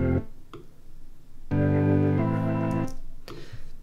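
A simple synth line pitched down an octave and layered over an organ sounds a sustained harmonic chord for about a second and a half, between short plucked notes before and after.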